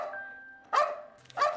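A stray dog gives two sharp barks about half a second apart, close and clear over a faint steady tone.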